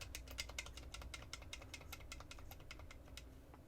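Clicky arcade buttons on an Arcade1up Pac-Man cabinet are pressed in a quick, steady run of sharp, close clicks over a low background hum.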